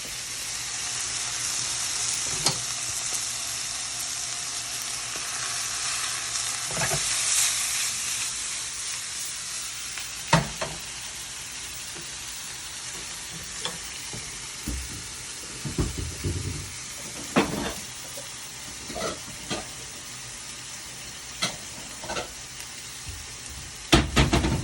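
Fish in a hot pan gives off a long, steady, close sizzle and hiss, broken by scattered clicks and knocks from utensils, with a few louder taps toward the end.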